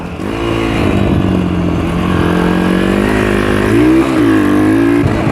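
A motorcycle engine drones steadily up close and loud, its pitch wavering and rising briefly as the rider revs, with no voices over it.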